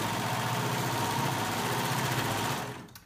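A serger sewing machine runs steadily, its blade trimming and stitching fabric edges for a swing dress, with a fast mechanical whir that holds level for nearly three seconds before winding down at the end.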